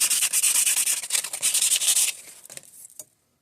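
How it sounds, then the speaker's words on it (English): Sandpaper rubbing back and forth on a wooden barbecue skewer, quick rasping strokes up close that stop abruptly near the end, leaving silence. "a little bit of sandpaper, just rough it up a little bit."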